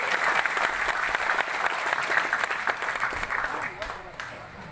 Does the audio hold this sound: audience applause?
yes